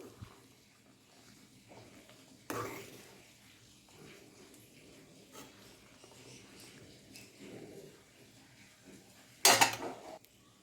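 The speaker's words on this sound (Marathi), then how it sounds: "हा मसाला पण आपण मिक्स करून घेऊ आणि आपण भाजी नंतर दोन मिनिट शिजवून घेऊ" Spoon scraping a cooking pan while green chana masala is stirred, two brief clattering bursts against a quiet kitchen background with faint soft noises between them.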